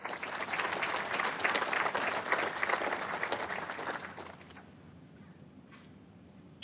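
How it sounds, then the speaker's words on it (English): Warm applause from an audience at a youth leadership day session honoring the host, dense clapping for about four seconds that then tapers off into quiet room tone. "Let's take a moment and give Spencer a round of applause for being a wonderful host and MC."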